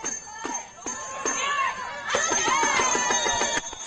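Fans at a women's flag football game in Israel, a European Championship match against Russia, cheer and shout excitedly in a lively, fairly close crowd, with spoken voices mixed in.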